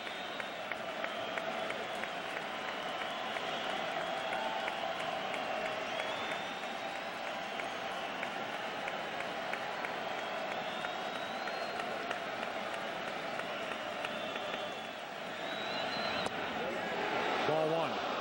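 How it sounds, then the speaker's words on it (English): Crowd noise at a 2008 World Series baseball game between the Rays and Phillies, a steady roar of applause and cheering at moderate distance, with a commentator talking over it. "This crowd comes alive at 12:33 a.m."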